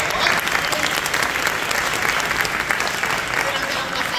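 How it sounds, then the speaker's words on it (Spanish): Steady, dense applause from a crowd at the announcement of the Race for the Cure 5K charity run in Puerto Rico, continuous and even for its whole length with no talk over it. "Un aplauso, por favor."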